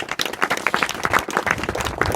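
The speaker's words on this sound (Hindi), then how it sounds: "ताली बजाओ।" An audience of students at Vikram Memorial Inter College in Bhatiya claps together, dense and loud, a brisk rattle of many hands that holds steady for a couple of seconds.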